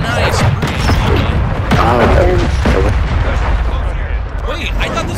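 Cruise missile strike in Modern Warfare 2 on PC, a loud, sustained rumbling barrage of booming explosions filling several seconds, close and heavy, with overlapping blasts and a voice talking over the chaos.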